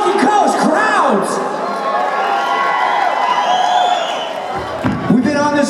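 A large concert crowd at The Event Center in Atlantic City cheers and whoops loudly and steadily, with shouts and whistles rising out of the dense roar and voices mixed in.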